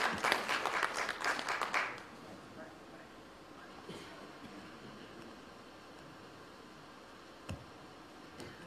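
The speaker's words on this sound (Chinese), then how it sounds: "请大家掌声欢迎" An audience at a singer's new-song launch event breaks into a brief burst of clapping that lasts about two seconds and then fades into quiet room noise with a few stray sounds.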